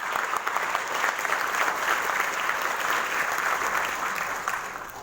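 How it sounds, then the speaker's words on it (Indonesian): A seminar audience gives sustained, dense clapping that fills the room evenly and tapers slightly at the end. "Beri aplaus yang sangat meriah"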